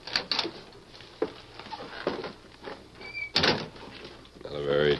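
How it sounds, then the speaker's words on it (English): Door of a small shack opened in an old radio drama, with creaks, knocks and clattering thuds from the door and footsteps at close range, and a voice speaking near the end. "Go on, open the door, Lacey."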